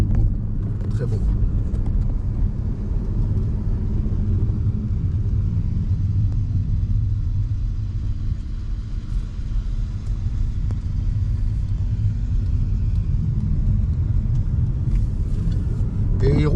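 A Renault 4L fitted with an R5 GTL engine cruises along a small mountain road, its low engine drone and road rumble steady throughout with a slight drop in the middle, while people talk over it.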